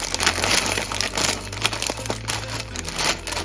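Brandy snaps crinkle and crunch as they are set into the bottom of a dessert glass, a close, continuous brittle crackling with small sharp snaps throughout.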